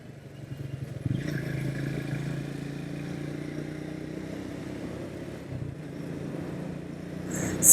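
A Triumph Speed 400 motorcycle climbs a hill, its engine holding a steady, fairly loud drone under load for several seconds, with a slight dip before it swells again at the end.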